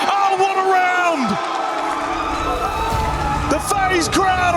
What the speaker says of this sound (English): The FaZe crowd are off their feet as they close out Consulate.